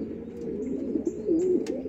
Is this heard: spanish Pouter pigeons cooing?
yes